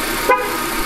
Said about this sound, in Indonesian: jangan diklakson